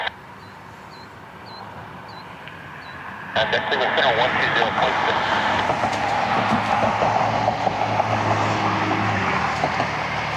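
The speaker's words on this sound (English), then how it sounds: "Air Canada Jazz 648 taxiing out for departure, heading to Montreal. Embraer E175." An Air Canada Jazz Embraer E175 airliner taxis out for departure at Cleveland Hopkins airport, a steady broadband engine roar that rises abruptly partway through and holds, with a few faint chirps early on.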